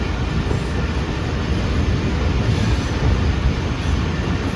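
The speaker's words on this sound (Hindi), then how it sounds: "लांडी रेलवे स्टेशन पहुंच गई हमारी ट्रेन" The Shah Latif 151UP train rolls into Landhi railway station with a loud, steady rumble of wheels on rail and faint squealing, unbroken throughout.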